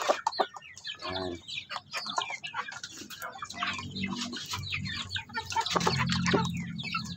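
Several chickens cluck and chatter nearby while eating coconut pulp in a backyard flock, with busy overlapping calls and occasional louder squawks throughout.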